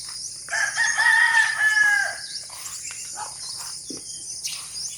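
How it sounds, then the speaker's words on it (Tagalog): A rooster crows in the Philippine countryside, one long rising call that stands out clearly over a steady bed of chirping insects, followed by quieter background clucks and rustling. "manok dito sa probinsya. Ito ang natural sound ng nature."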